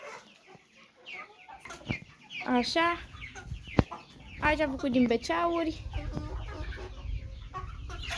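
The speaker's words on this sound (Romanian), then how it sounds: "am mutat găinile mari cu cele mici" Chickens, large and small, cluck and squawk repeatedly close by, with a person talking briefly over the busy flock sounds.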